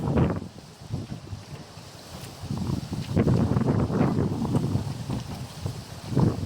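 Strong wind buffets the microphone with loud rumbling gusts, rising and falling, with a faint watery wash underneath.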